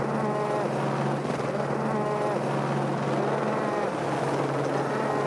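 A helicopter flies over drought-stricken pastureland carrying water for a farmer's livestock, 700 litres per trip; its rotor drone is loud, close and steady throughout, with no pauses.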